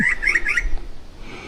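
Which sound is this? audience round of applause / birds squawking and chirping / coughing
birds squawking and chirping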